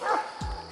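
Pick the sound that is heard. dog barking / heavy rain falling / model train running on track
dog barking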